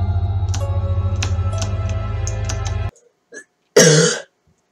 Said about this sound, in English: Sorry, I keep coughing.